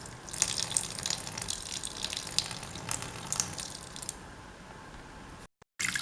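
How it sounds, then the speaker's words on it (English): About 100 ml of water pours steadily into a cooking pot of mango raita with salt and curry leaves, a soft continuous splashing with faint metallic clinks, then briefly cuts out near the end. "Pour in some water,"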